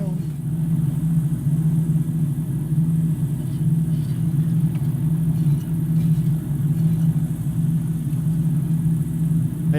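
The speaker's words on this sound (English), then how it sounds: "I am taxiing much faster than I'm supposed to" Small airplane engine running steadily while the plane taxis at Las Vegas, a constant low droning rumble heard from inside the cabin for the whole stretch, with no words spoken.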